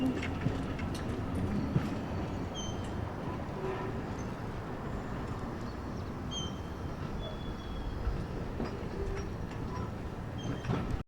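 A meter gauge tram on the Trondheim tramway rumbles steadily along the track, with faint clicks and a few brief squeals over a constant low rolling noise, no voices.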